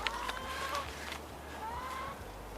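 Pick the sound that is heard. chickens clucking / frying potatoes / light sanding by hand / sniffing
chickens clucking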